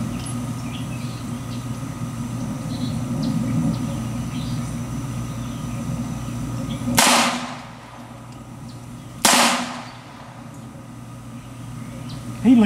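Two sharp shots ring out a couple of seconds apart from a Beretta U22 Neos pistol fired at an outdoor range, each loud and close with a short decay over a faint background hum.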